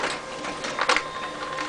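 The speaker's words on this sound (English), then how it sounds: "now we just need to press the printer." A printer running as it prints out a DNA fingerprint result, giving a steady mechanical whir with a brief louder burst partway through, fairly close and heard on its own.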